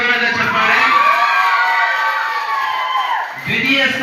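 A crowd of children at a school quiz shouts and cheers loudly and continuously, a dense, close roar that dips briefly near the end before swelling again.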